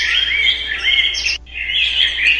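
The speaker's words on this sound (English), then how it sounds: "Birds." Small birds chirp and tweet in rapid, continuous high-pitched trills near a household dryer vent, with a brief pause midway before the chirping resumes.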